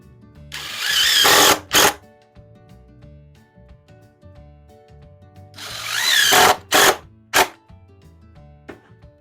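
Power drill driving 2.5-inch screws into a clamped wooden barstool seat support, two loud bursts of whirring several seconds apart, each ending with short final pulses, with quiet workshop noise between.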